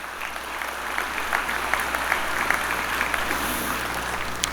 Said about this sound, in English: So I'd like to give a big round of applause for all of our community people who helped us.